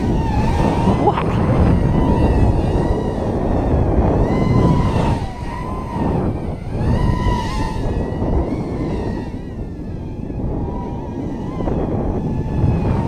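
A 130mm Lantian quadcopter drone with 1306 motors on 3S sweeps past at about half throttle, its buzzing whine rising and falling over steady gusty wind noise outdoors, continuous throughout.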